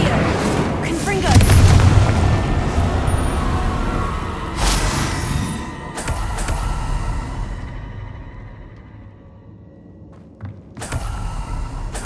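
Confringo and Incendio spell blasts in Hogwarts Legacy: several loud booming impacts with crackling fire and debris, spaced irregularly, followed by a quieter stretch and more bursts, mixed with game effects.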